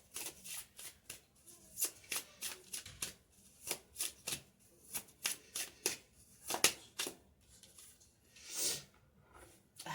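Oracle cards are shuffled by hand, close and quiet, giving a string of soft riffling and sliding bursts with short pauses between them.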